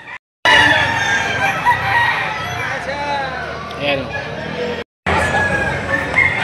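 Many roosters crow and chickens cluck all around at a chicken market, loud and overlapping, while someone speaks briefly over the busy flock.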